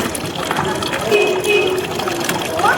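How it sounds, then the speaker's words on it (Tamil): Water gushes and splashes continuously while a small pet is being bathed at home, a steady close pour that runs throughout, with a voice talking over it. "நீ டெய்லி குளிக்கிறியோ இல்லையோ, என்ன டெய்லி குளிப்பாட்டிருக்க வந்த உடனே அப்படி தானே ஜெய்சி?"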